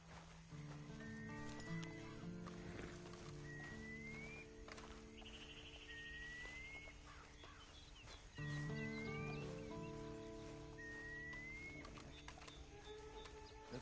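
Horse riding in the video game Red Dead Redemption 2, with steady clip-clop hooves and a whinny set against a game soundtrack of sustained tones and birdlike chirps, moderately loud throughout.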